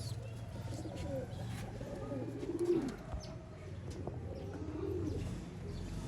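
Pigeons coo softly in a loft or home pigeon setting, low rolling calls repeating under a steady background hum, with faint voices nearby.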